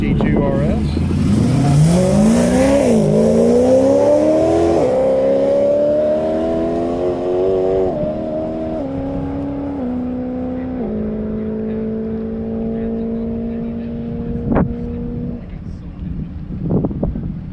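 Race cars in the first run group accelerate on a track during an afternoon session at NOLA in 2021. Engines rise in pitch, hold a long steady drone, then fade, with a buffeting wind-like rush.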